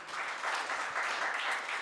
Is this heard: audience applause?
yes